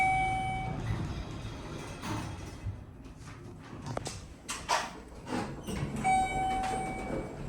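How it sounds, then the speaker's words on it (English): Schindler MT traction glass elevator motor starting up in an office building, a low rumbling hum with rattles, clunks and brief whining tones as the car begins to move. "Love the motor starting up."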